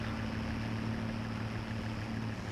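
Steady low engine drone of an Ursus tractor in Farming Simulator 22, idling and creeping in reverse near a cowshed while unloading mixed feed, continuous and even with no talk over it.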